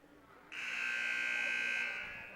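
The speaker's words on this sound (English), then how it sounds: "Buzzer sounds." A single long electronic buzzer in a high school gymnasium during a basketball game blares suddenly and holds steadily for about one and a half seconds, loud and harsh, before fading out.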